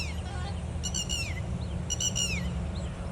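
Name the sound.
bird calling near a lake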